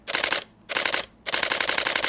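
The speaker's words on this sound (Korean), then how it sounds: "우선 얘 기계식 셔터 소리를 좀 들어보자면요" Canon EOS R5 Mark II mechanical shutter firing in three rapid bursts of crisp clicks, close and loud, separated by short silent gaps, with the last burst the longest.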